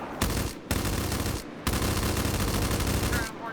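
Video-game gunfire in dense, sustained bursts of automatic shots, loud and continuous with two short breaks.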